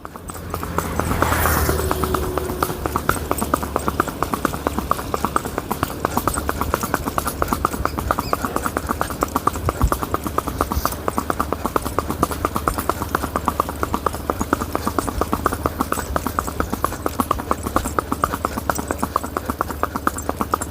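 A Sindhi mare walks with a steady, continuous clip-clop of hooves, close and fairly loud, her even rhythm carrying through the whole stretch with little else around.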